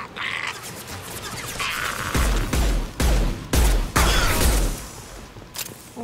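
Heavy, close gunfire erupts during a firefight in Mass Effect 2, with loud repeated bursts and booming impacts in a rough rhythm over constant battle noise.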